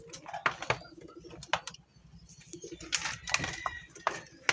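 Young pigeons coo in soft, throaty bursts at close range, with scattered flutters and shuffles between calls and brief faint human voice sounds in the background.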